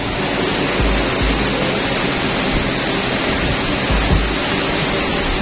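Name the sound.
heavy rain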